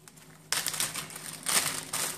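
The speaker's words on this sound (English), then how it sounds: "you take a plastic bag, unfortunately I take a wrong one" A stiff plastic bag is handled while dividing Streptocarpus plants, giving close, sharp crinkling bursts after a quiet start, with a louder rustle near the middle and another toward the end.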